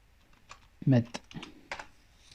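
A search is typed on a computer keyboard: a short burst of clicky keystrokes, irregular and close, with a louder thump among them and soft speech-like sounds around.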